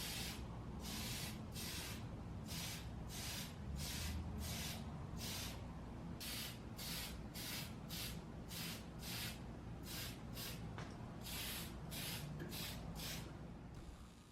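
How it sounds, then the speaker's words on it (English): Repeated bursts from a spray can lay dark metallic paint onto a heavy Mandalorian helmet build, about twenty short hissing sprays in a steady rhythm, close and loud over a low background hum. "We're only going to spray it in areas we want it to show through."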